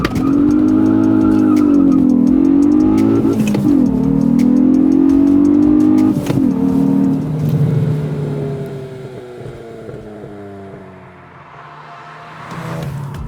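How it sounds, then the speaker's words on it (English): A 2021 Hyundai i20 N pulling away under launch control, its engine rising loud and close in a strong rev, dipping briefly at a gear change, climbing again, then fading as the car moves off, with no voices. "you simply have to press the clutch, first gear, then push the accelerator pedal and let the clutch go"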